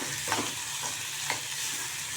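Tomatoes frying on a high gas flame: a steady, close sizzle with a few soft stirring scrapes rising briefly above it, no voices.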